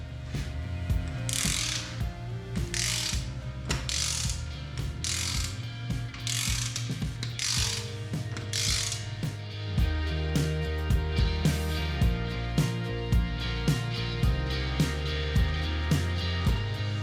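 A ratchet wrench tightens bolts on a forged LSA engine during a Chevelle build, giving close, crisp clicking in steady repeated strokes over a low background hum, with no talking.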